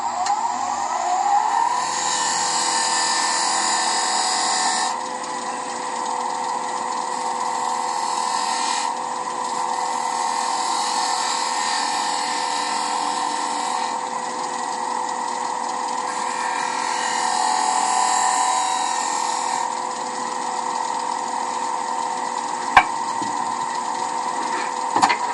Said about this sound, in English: So I'm going to undercut this face. Using a spindle gouge.